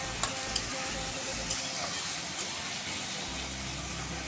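Chicken and tomato frying in a pan while being stirred, a steady close sizzle with a few sharp scraping clicks of the utensil against the pan.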